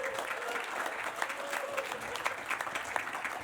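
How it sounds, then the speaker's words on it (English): A comedy club crowd claps steadily for a stand-up comic, a dense wash of applause at moderate level with a faint voice underneath. "That's my time. Clap for me."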